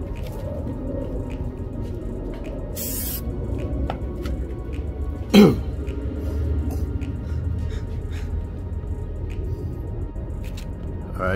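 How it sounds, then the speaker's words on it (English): A can of PlastiDip aerosol coating gives one short hiss as it sprays the emblems on a 2021 Toyota Highlander, followed by a single sharp knock in a quiet space. "then you can go ahead and give it its first spray"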